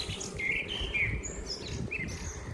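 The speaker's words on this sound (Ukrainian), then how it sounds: "Співають пташки." Small birds singing outdoors on a quiet street with clipped hedges, thin high chirps and short whistled phrases, faint and somewhat distant over a low steady background rumble.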